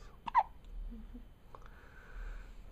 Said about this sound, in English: I think you have the hiccups.